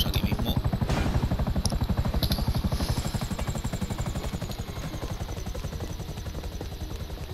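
A helicopter in the video game Grand Theft Auto V slows and sets down, its steady rotor chop thudding in rapid, even pulses under a whining engine, moderately loud.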